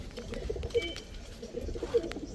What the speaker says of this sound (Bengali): এই যে দেখেন গোদনাইলের কবুতর।